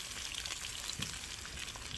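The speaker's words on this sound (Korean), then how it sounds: "기름이 이 고기 사이를 거의 튀기고 있어요. 굽는 게 아니고." Pork belly fries in oil on a cooking surface set up on top of a vehicle outdoors, giving a steady, close crackling sizzle with dense spitting pops throughout and no talking.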